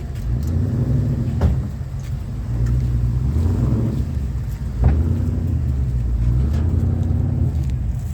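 An autocross truck with an LS6 V8 engine runs loudly nearby, a steady deep rumble with a few revving swells and no talk over it.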